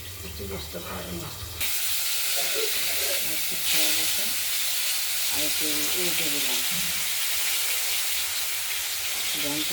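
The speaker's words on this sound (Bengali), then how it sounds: "মাছটা ভাজা হচ্ছে, দেখতে থাকুন" Fish sizzles in a pan of hot oil, first under soft background noise, then a sudden loud, bright, continuous frying hiss that lasts to the end, with a voice talking beneath it.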